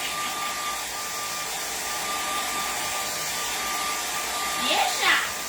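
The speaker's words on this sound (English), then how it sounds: "hair dryer again" A hair dryer blows with a steady, even whir, and a couple of faint squeaky chirps break in near the end.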